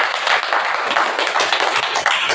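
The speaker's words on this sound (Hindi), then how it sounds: "ताली भी बजा।" Audience clapping in a hall, a brisk burst of many hands slapping in quick irregular rhythm, close and fairly loud for a couple of seconds.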